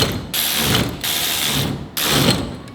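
A hand ratchet clicks rapidly in two bursts separated by a short pause while a steering wheel quick release is screwed onto a 700hp Civic Type R being built into a racecar. The ratcheting is close and loud.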